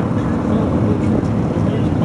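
A pack of Can-Am Spyder three-wheel motorcycles rolling past at a Daytona rider gathering, making a steady, loud engine rumble with wind buffeting and no break in the drone.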